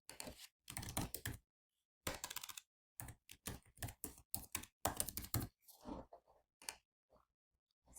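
Computer keyboard typing in bursts of quick clicks with short pauses between, close and fairly quiet, while text is entered into a long description field.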